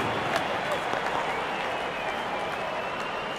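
Cricket spectators at a match between Scotland and another side applaud a batter's fifty, a steady wash of distant crowd clapping that holds evenly throughout.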